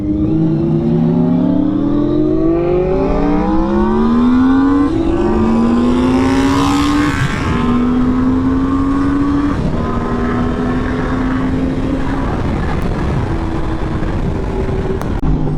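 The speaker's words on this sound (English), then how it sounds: "Oh my god, he's doing a rolling burnout." Honda VFR 750F motorcycle pulling a rolling burnout, its engine screaming loud and close as the revs climb in long rising sweeps, then holding a high steady wail with a brief surge of tire roar midway.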